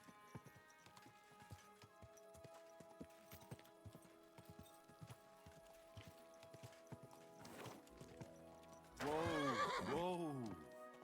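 A horse neighs loudly and close near the end, after steady hooves clopping at a walk, with faint game music underneath, in a medieval video game setting.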